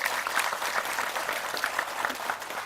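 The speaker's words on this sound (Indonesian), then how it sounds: "Tepuk tangan lagi nih." Steady applause from an audience at a Hindu dharma wacana talk, a dense continuous patter of many hands at moderate level, without pause for the whole stretch.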